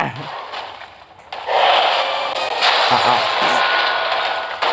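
Loud explosions and crashing blasts in the PSP racing game Split Second, with bursts of roaring noise over engine sound and a few overlapping booms.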